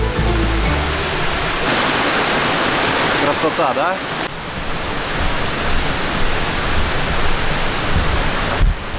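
The Poceta de Cristal waterfall in Cuba roars as a loud, steady wash of falling water right up close. One voice briefly speaks over it.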